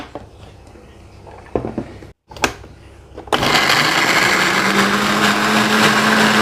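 A kitchen blender starts up and grinds chopped garlic, ginger and candlenut for a spice paste, a loud steady motor whir running continuously after a few preparatory clatters and a brief pause.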